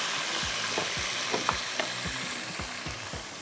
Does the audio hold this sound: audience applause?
no